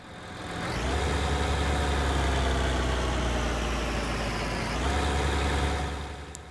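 Tractor engine from Farming Simulator 19, running steadily in a forest setting while planting corn, a loud continuous low drone that swells at about one second, dips briefly, then revs again near five seconds, with no talking.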